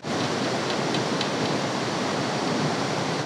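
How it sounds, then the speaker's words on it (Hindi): A swollen mountain river rushes below a swaying suspension bridge in a remote Indian village during the rainy season, a steady, dense roar of water that fills the scene without pause. "यहाँ पर दोनों तरफ से नदियाँ बहती हैं"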